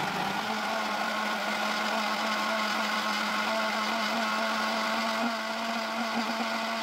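A Ninja Creami Deluxe blender runs steadily at full speed on milk, a loud, continuous whirring drone with a faint rattling edge and no talking.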